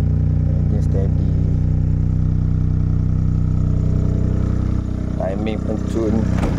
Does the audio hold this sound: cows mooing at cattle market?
no